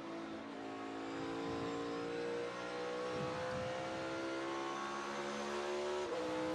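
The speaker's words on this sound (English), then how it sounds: "There's that double downshift." A NASCAR Cup race car at the Enjoy Illinois 300 practice drops two gears and accelerates off a corner, a loud sustained engine roar with shifting harmonic tones as revs climb, heard alone.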